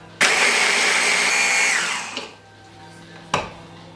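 A food processor runs in one loud, continuous burst for about two seconds, crushing nuts with a pinch of salt for a cheesecake crust, then winds down, followed by a single sharp clunk.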